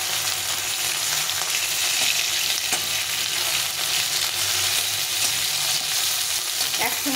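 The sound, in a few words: hilsa fish heads frying in oil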